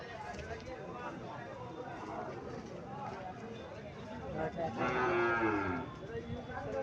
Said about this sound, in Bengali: 1 বছর বয়স, শাহিওয়াল জাতের সার।